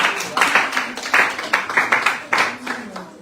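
An audience claps for winning schools at an awards ceremony, uneven bursts of applause swelling and dipping over a few seconds, with voices mixed in underneath.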